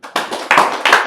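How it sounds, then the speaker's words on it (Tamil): An audience at a spiritual talk claps hands in a few loud, close bursts, with sharp overlapping claps rising and falling in quick waves over about a second. "கைத்தட்டலாமே"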